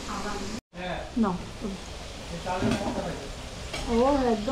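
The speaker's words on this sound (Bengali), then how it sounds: "ওই জন্য একটু বেশি কড়া করে ভাজা।" Food deep-frying in a pan until dark and crisp, a steady close sizzle of hot oil running underneath intermittent talking.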